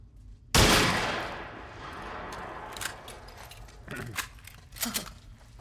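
A loud gunshot in the video game The Last of Us Part 1 cracks out near the start and decays, followed by fainter metallic clicks and scattered shots.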